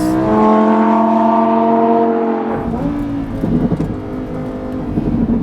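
A Lamborghini Huracán EVO with rear-wheel drive roars loudly through a corner at full speed on a track, its engine note holding high and steady, then dropping as it lifts off and brakes into a rougher, burbling rumble.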